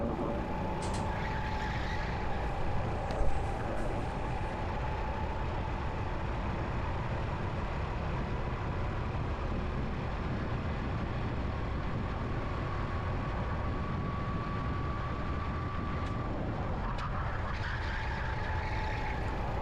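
Racing karts circle a track during a pre-final race, their engines forming a steady, continuous mid-distance drone with slight shifts in pitch and no voices.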